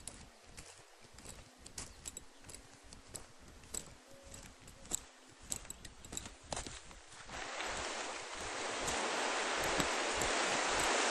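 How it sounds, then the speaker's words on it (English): Quiet rustling and scuffing with occasional horse hoof steps, then a broad rough scraping noise swells as a tarpaulin is dragged along the ground toward the horse. "I'm dragging this tarpaulin at him"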